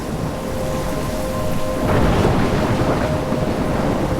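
Thunderstorm with rain in Life is Strange, steady heavy rain hiss under a swelling rumble of thunder that builds midway and lingers, with a faint tonal hum running through.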